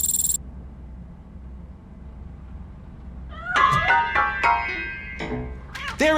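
A cat in a video game meows several times in quick succession, loud and close, following a few seconds of low ambient quiet; a brief high electronic tone sounds at the very start.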